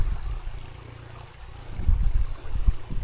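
A small beck in Wharfedale runs beneath a little bridge on its way down to Cray, giving a low, steady trickle and burble of flowing water, close by and unbroken, with no voices.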